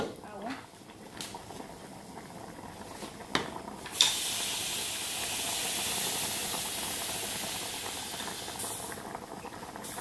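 Water poured into a hot cooking pot with sweet pepper, celery and green beans bursts into a loud, close, sustained steamy hiss that follows a few clanks and a faint voice.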